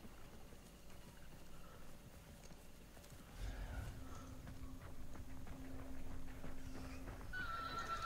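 A horse whinnies and its hooves clip-clop in a western-style multiplayer game, starting quiet and growing louder after a few seconds, with faint ambient game sounds behind.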